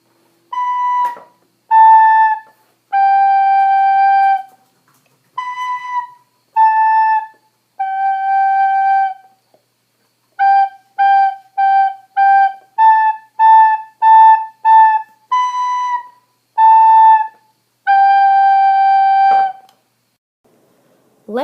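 A recorder plays a melody of clear, sustained notes, some held long and others short and detached in quick runs, loud and close with brief silences between phrases.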